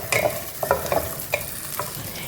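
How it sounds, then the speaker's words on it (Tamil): Small shallots and ginger stirred in a frying pan for a banana stem chutney, with a few quiet scraping clinks of a spoon against the pan over a soft, low sizzle. "இப்போ அதே பேன்லேயே சின்ன வெங்காயம் நான் ஒரு 10லேருந்து 15 நம்பர் போல் சேர்த்துக்கிறேன்"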